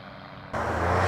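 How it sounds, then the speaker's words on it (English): A microlight aircraft at a grass airfield, engine droning steadily, then suddenly growing louder and brighter as it passes close, a strong continuous buzz with no one speaking. "microlights and powered hang gliders were coming in and going out all day long"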